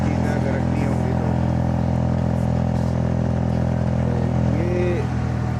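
A motorcycle engine drones steadily while riding on a trip through the Murree Galiyat hills, a constant low hum with rumble and wind noise, and a brief pitch swell near the end.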